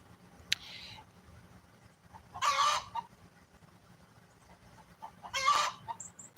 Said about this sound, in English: that's the girl chicken making all that noise.